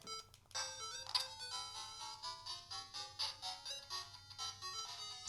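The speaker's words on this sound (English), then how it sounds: "Listen to that music." Bright, bleepy 8-bit chiptune music from a Game Gear game plays through a retro handheld emulator. A bouncy square-wave melody runs over a pulsing low bass line, fairly quiet and with no talk.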